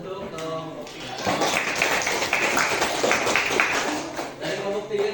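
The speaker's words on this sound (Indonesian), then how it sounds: "tepuk tangan untuk kelompok 3" Group applause in a classroom coaching session after students of group 3 present their work, a short burst of many hands clapping that swells and fades, with a voice speaking over the start.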